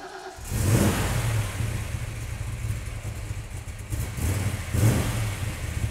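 A car engine revs hard as the car pulls away, loud and close, with a strong throaty surge at the start and another near the end, no talk over it.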